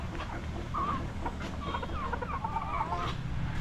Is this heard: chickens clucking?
yes